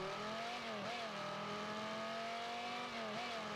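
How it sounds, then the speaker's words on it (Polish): A 1989 Batmobile's engine in the video game Rocket League hums at a steady pitch, dipping and rising briefly twice as if shifting gears, loud and close with no talking. "I dźwięk silnika."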